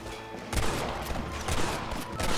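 Rapid, overlapping gunshots from a Red Dead Redemption firefight, loud and close, with repeated sharp cracks over a busy crackling background.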